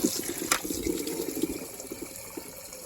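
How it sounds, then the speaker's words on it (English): Water gushing from a hose into the tank of an NSW Z18 class steam locomotive, a steady rushing fill with low splashing and a sharp metallic clank near the start. "And we fill the tank."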